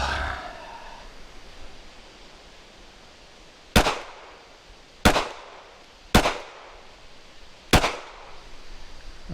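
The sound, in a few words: gunshots from practice shooting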